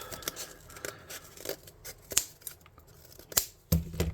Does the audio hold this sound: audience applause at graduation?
no